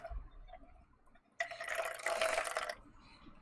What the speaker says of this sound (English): I just heard you pouring something. Pour a glass of water.